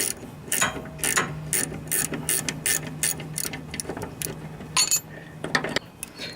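Wrench ratcheting while unscrewing fine-threaded bolts on a riding lawnmower's steering linkage, a close series of sharp metallic clicks in irregular bursts with short pauses, no talking.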